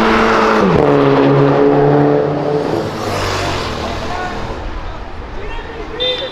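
A Chevrolet Camaro revs hard during a burnout on a city avenue, a loud sustained engine roar that climbs and holds while excited voices talk over it.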